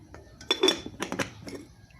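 A metal pot of salt-roasted native chicken is set on the stove and its lid fitted, giving several sharp clinks and clanks close by in quick succession, with soft sounds in between.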